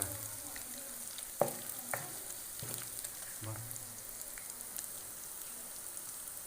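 Ginger and garlic frying and browning in a pan for a tinde gosht curry, a soft continuous sizzle broken by a few sharp spoon scrapes and stirring knocks, close and fairly quiet.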